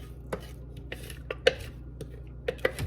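An onion, garlic and ginger mixture is added to a pan of melting lard, with scattered light clinks and taps of a utensil on the pan, close but fairly soft over a low steady hum.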